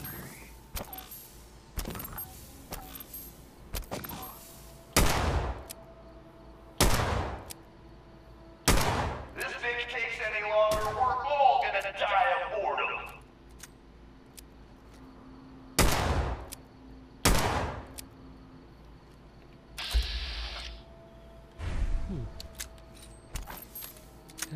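Stationary and wall-mounted turrets firing in Fallout 4, sharp isolated gunshot bursts spaced a few seconds apart, loud and close, with a brief electronic chatter and a short whine between shots.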